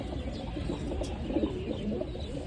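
Kept pigeons give low, throaty coos over a constant noisy background, a few bubbling calls close by, with no speech.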